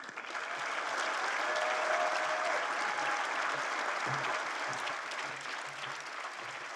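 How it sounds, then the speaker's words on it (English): Sustained applause from a large audience at a university brunch event, a steady, broad wash of many hands clapping close and loud for several seconds, with faint voices beneath. "Let's keep another round of applause for Angela for that amazing student story"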